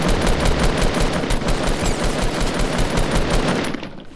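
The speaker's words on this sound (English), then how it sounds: "Am I getting shot at? Yeah, you're getting shot at." Rapid automatic gunfire from the video game Fortnite, a dense, loud continuous burst of shots running almost the whole time before cutting off near the end.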